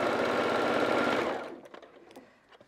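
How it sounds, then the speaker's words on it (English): A sewing machine stitches a quilted table runner in a fast, even whirring burst up close, then stops abruptly, leaving a few faint clicks and handling noises. "I can just turn straight over to the machine and get sewing."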